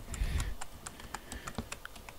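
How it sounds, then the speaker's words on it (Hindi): Someone types an Aadhaar number on a computer keyboard: a quick run of close key taps in an uneven rhythm, fairly quiet, with no one talking. "हम यहाँ पर आधार नंबर इनपुट करते हैं"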